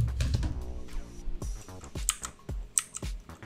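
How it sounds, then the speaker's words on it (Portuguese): Sharp, irregular keystrokes on a computer keyboard, several distinct clicks spaced through the clip and a short burst at the start, fairly close and with no talking. "Teclado."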